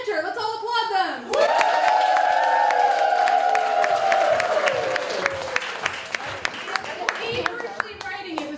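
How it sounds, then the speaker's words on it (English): Audience applause and clapping as contestants walk onto a stage at a live comedy show, a loud sustained wash with scattered whoops and cheers, a voice speaking over it, then fading with individual claps toward the end. "Contestants, enter! Let's all applaud them!"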